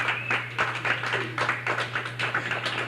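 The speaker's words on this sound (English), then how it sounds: "Big round of applause" A small audience claps in scattered, uneven bursts, a thin round of applause for a game-show contestant over a steady electrical hum, with no talk.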